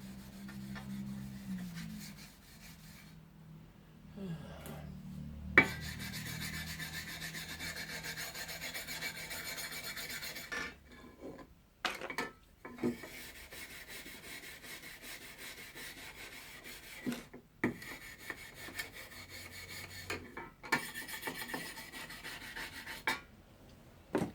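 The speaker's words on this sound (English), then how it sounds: "All this sandpaper, never the right grit that you need" Sandpaper rubbing against the metal of a Disston backsaw during restoration, rhythmic raspy strokes in bursts separated by short silent pauses, close and alone.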